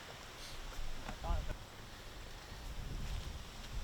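Wind gusting across a disc golf course at the Foxwood Open tournament, a steady broad rush with louder buffets near the start and end, heard under faint talk.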